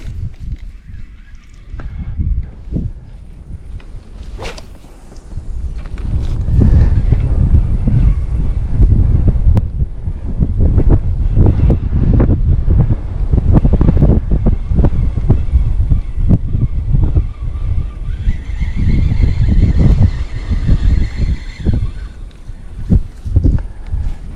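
Gusty wind on a riverbank during summer fishing, buffeting the microphone in a steady low rumble that swells and persists throughout, with no talk.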